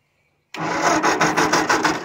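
Ford 660 tractor engine cranking over loud and close after a half second of silence, a steady rough churn with rhythmic pulses from each turn of the starter.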